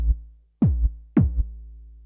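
A Korg Volca Drum kick patch built from two sine layers strikes three times, each deep boom decaying quickly and followed by a softer second thump from the later layer.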